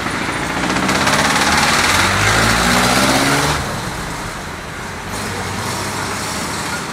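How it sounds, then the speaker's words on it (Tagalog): Heavy road traffic in Pasig fills the air with loud, close engines and tyre noise. A vehicle passes with a strong, rising swell before the roar settles back to a steady traffic din. "Pakita ko lang sa inyo yung traffic sa Pasig."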